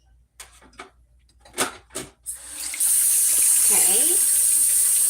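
Water runs from a tap in a kitchen, a loud, steady hiss that starts partway through after a few clicks and handling sounds. A person briefly speaks before it.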